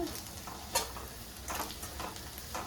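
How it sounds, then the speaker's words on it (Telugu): Oil frying for a Kerala-style squid curry, a steady soft sizzle with light stirring scrapes and occasional clicks, close and moderately quiet, with no talking. "ఈ ఆయిల్లో కొంచెం బాగా ఫ్రై చేసుకోవాలండి."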